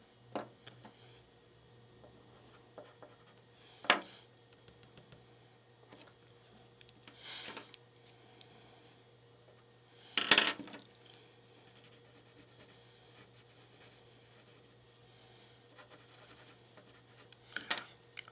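A charcoal pencil drawing on gray paper gives faint, sparse scratching strokes spread over a quiet stretch, one stroke louder than the rest, over a low steady hum.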